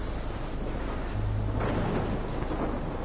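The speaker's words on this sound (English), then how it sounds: "And this thunder is pretty loud." Loud thunder rolling during a storm in the Life is Strange video game, a continuous deep rumble with a swelling crack midway, heavy and close, no voice over it.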